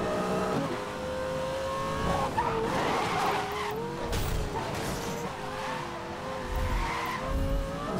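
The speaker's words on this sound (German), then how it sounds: "Oh, stimmt, das war ja Drift." A car drifts in Need for Speed Most Wanted (2012), its tires skidding and squealing continuously over a loud revving engine for several seconds, close and dense, with no talk over it.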